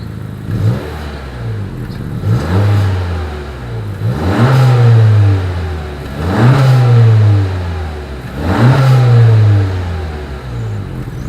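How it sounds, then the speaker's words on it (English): The exhaust of a 2020 Honda Accord revs loudly, rising and falling in four or five repeated swells close by. "As always, here is that exhaust clip."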